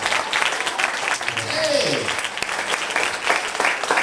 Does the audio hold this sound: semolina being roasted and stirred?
no